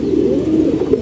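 A pet pigeon gives a brief, low, throaty coo close up, alone and without talk.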